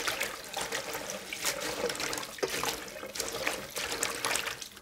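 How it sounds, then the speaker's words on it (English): Wild sweet pea greens being rinsed under running water, a steady broadband splash and trickle that lasts the whole stretch, moderately loud and close with no talk. "And now we just give them a thorough rinse."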